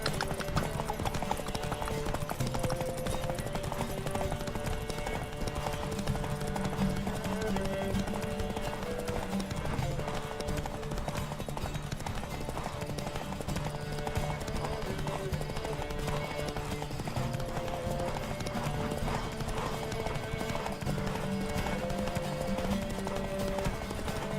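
Rapid rhythmic hoofbeats of a galloping horse run throughout, mixed with steady background music and game sounds, loud and unbroken.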